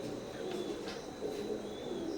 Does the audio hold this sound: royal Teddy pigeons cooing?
yes